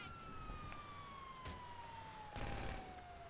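A police siren in Grand Theft Auto V wails steadily at a distance, sliding in pitch beneath a constant noisy rumble, with a couple of brief thumps along the way.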